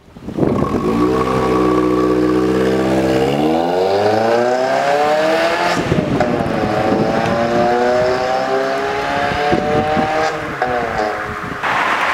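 An Abarth car's engine revs hard while driving, a loud, continuous roar that climbs and falls through the gears with no talk over it.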